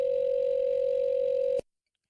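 After a phone hangs up, a steady telephone dial tone hums loud and unbroken for about a second and a half, then stops abruptly into silence.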